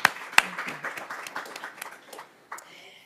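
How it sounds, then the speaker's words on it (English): A small audience at an Iowa City Foreign Relations Council event gives a brief, thin round of applause for the Iowa City Public Library, with scattered claps and two sharp nearby hits at the start that taper off within three seconds. "let's give a round of applause to them"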